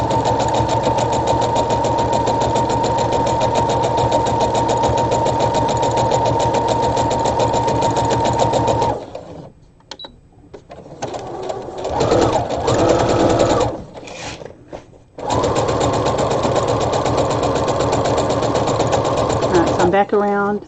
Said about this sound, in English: And I'm just sewing gently over the pins.